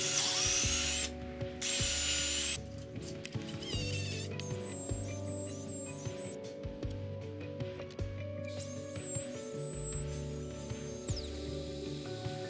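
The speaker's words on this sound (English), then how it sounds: "I could drill the holes through the forks for the bolts" A power drill bores bolt holes through the wooden forks of a handmade chopper bike, with whining pitch changes as the bit bites and stops, plus intermittent bursts of tool noise over a constant workshop hum.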